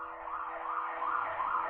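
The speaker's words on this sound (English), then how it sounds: "Perfect timing with the ambulance or the police." Ambulance or police siren wailing outside, a steady rising-and-falling tone held throughout, moderately loud but somewhat distant, with no talk over it.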